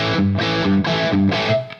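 A distorted electric guitar riff plays through a tube amp, with thick chugging chords landing in a steady rhythm of four heavy hits, loud and up close with no talking over it.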